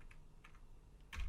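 A few quiet keystrokes on a computer keyboard while someone codes a website, soft separate taps with a louder clack near the end, no talking.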